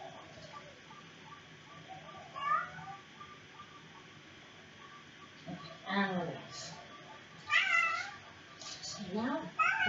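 A cat meows repeatedly during a yoga session, several drawn-out, wavering calls that grow louder toward the end, with a calm instructor's voice speaking between them.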